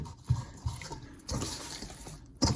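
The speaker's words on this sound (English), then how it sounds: "I like to use the water to get some of the stuff off the bottom of the bowl too" Water splashes and swishes in a bowl of bread dough, the liquid pulling leftover bits off the bottom in a few soft, close bursts of sloshing.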